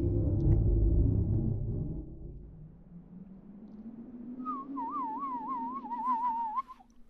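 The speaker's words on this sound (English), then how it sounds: "his calm and tranquility ends when he hears a whistle in the distance" A distant whistle in a horror short film, a wavering tune that enters midway and carries on for a few seconds over a low rumbling ambience, after a loud, dense opening that fades.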